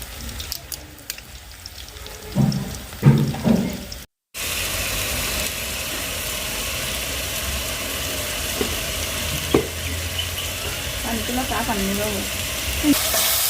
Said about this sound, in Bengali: তো এই যে মশলাটা কিন্তু আস্তে আস্তে কষাই নিচ্ছি